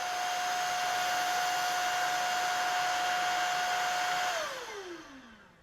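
A Shark Vertex Pro cordless vacuum cleaner runs steadily on eco mode, giving a loud, even motor whine with a constant pitch, then winds down as it is switched off near the end.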